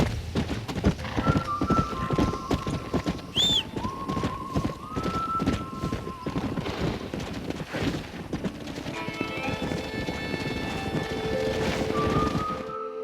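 Horse hooves clip-clop steadily over a busy Red Dead Redemption game soundscape, with a brief whinny and scattered thumps and chimes.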